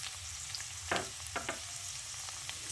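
Potatoes and papaya fry quietly in a pan for an aloo papaya dum, a low steady sizzle broken by a few soft scraping stirs, with no voices.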